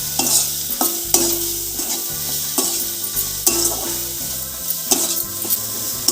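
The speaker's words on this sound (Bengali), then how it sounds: "পেঁয়াজটা বেশ কিছুক্ষণ সময় ধরে আমি ভাজা ভাজা করে নিচ্ছি।" Onion fries with chili powder in a pan, a steady sizzle broken by repeated rhythmic scrapes and knocks of a spatula stirring against the metal, close and clear.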